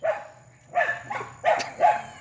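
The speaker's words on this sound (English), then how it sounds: "My dogs are going to be noisy." Several dogs barking indoors in four short bursts, moderately close, with brief pauses between barks and no talking.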